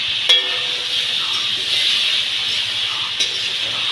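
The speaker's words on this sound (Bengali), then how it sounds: "সবজি ঢেলে দেওয়া হলো কড়াইয়ে।" Potatoes and vegetable stalks fry in oil in a wok with a steady, close sizzling hiss throughout, broken by a couple of brief clinks.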